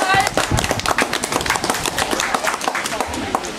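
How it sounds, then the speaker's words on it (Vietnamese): Guests at a Vietnamese wedding ceremony applaud with a brief, dense burst of hand clapping, loud and close, with voices mixed in. "xin tất cả ra một tràng vỗ tay nhiệt liệt"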